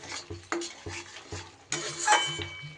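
Spice masala for a flat-bean vegetarian dish fries in a pan while a spoon scrapes and knocks against the metal in repeated strokes over a soft sizzle.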